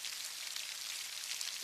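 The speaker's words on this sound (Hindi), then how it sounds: "बारिश और तेज हो गई।" Rain grows heavier on a quiet night, a soft, steady high hiss of falling drops with no low rumble, faint and constant, heard alone.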